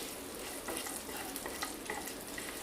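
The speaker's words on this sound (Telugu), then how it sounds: "ఎండుమిర్చి, జీడిపప్పు అండ్ కొన్ని కర్రీ లీవ్స్, వీటిని బాగా ఫ్రై చేసుకోవాలి" Dried red chillies, cashews and curry leaves frying in hot oil, a steady close crackling sizzle with small pops and occasional stirring, continuous and alone.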